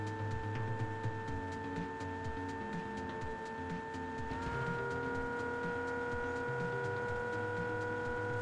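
A Lamborghini in the video game PUBG drives in circles, its engine holding a steady whining tone that shifts pitch midway, with faint tire and road noise and no talk.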